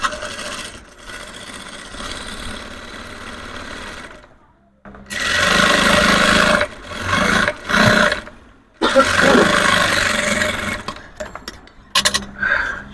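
Sewing machine stitching the inside seam of a three-piece outfit, loud and close, running in several bursts separated by short stops and a near-silent gap before the later runs.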